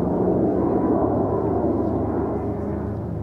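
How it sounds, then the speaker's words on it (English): An RQ-170 Sentinel drone passing overhead gives a steady, low droning rumble that holds at an even loudness throughout, with no voices. "I'm pretty sure this is one of these RQ 170 Sentinel drones."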